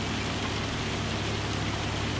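Steady heavy rain in the Farming Simulator 25 video game, a dense continuous hiss of downpour with no breaks, played alone without voices.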